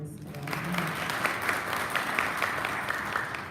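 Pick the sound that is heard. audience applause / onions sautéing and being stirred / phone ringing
audience applause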